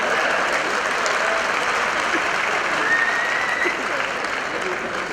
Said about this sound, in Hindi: हाँ ऊपर वाले में ताली बजा सकते हैं भाई,